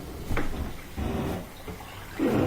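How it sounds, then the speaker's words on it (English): Water sprays and sloshes inside a dishwasher during circulation, in uneven surging bursts that swell and fade, fairly close and with no talk. "Water shooting around."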